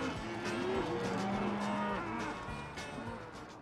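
Cows at a dairy farm in a Wiltshire village low in long, drawn-out moos over a steady background hum of the farm, with several calls overlapping at a moderate distance.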